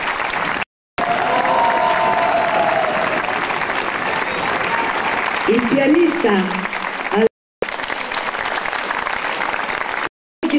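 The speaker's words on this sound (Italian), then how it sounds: "fatevi un bel applauso" An audience claps through a sustained burst of applause at an outdoor operetta evening in Osio, dense and even, with someone speaking over it and a brief musical flourish partway through.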